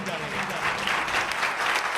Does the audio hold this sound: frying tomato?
no